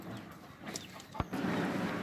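A yellow gamecock gives a few faint, brief clucks, with one sharp click near the middle, over quiet background noise.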